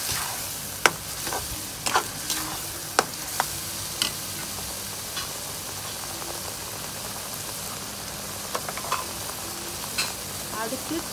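Mushroom gravy ingredients sauté in hot oil, a soft continuous sizzle broken by sharp clinks and scrapes of a stirring spoon against the pan at irregular intervals.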